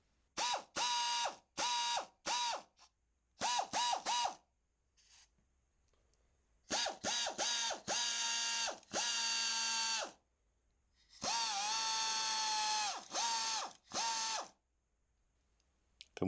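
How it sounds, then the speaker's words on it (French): Silverline 656578 1/2-inch pneumatic ratchet running on compressed air, giving repeated loud whirring bursts of a few seconds each, with short pauses and one longer burst near the end, alone without talk. "maintenant vous allez pouvoir entendre le cliquet fonctionner"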